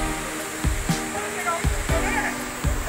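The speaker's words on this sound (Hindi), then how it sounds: "यहाँ से बहुत ही गर्म पानी आता है।" Hot water gushing steadily from the gaumukh spout into a temple kund at Takaji Mahadev, Navli, Bhanpura, Mandsaur, a continuous close splashing rush with a few thumps and faint voices in the background.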